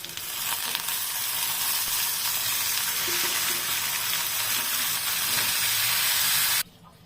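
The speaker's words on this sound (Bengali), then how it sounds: "চালগুলো ভালোভাবে ভেজে নেব" Rice frying in a pan with garlic paste and ginger paste, a steady close broadband sizzle with light stirring scrapes that runs continuously before cutting off abruptly near the end.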